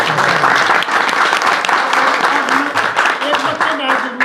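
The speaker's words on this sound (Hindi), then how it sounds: "बजाओ भाई, एक बार ताली बजाओ।" Crowd clapping and cheering at a village election rally for a district council candidate in India, dense steady applause lasting throughout, with a voice calling out over it.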